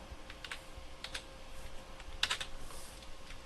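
Sparse keystrokes on a computer keyboard while a short note is typed into a terminal text editor on Linux, a few scattered taps followed by a quick cluster of key presses, close and fairly quiet.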